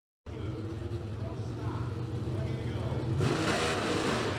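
Pro Stock drag race cars roar through a final round in Arizona, a dense, loud engine rumble that builds and then surges brighter near the end, with commentators talking over it.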